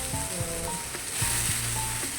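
Masala spices roasting in a pan for a jackfruit curry, a steady close sizzle with occasional clinks and scrapes of a spoon stirring against the pan.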